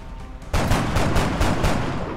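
Overwatch gunfire in the game XCOM: Enemy Within, several sharp shots in quick, uneven succession that burst in suddenly after a quiet moment and stay loud and close with a reverberant tail.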